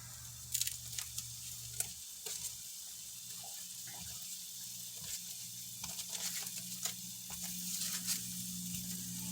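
Cheese steak meat frying in a pan, a steady soft sizzle with faint watery crackle and a few sharper pops and stirring clinks throughout, no voices.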